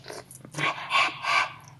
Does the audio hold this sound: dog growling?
yes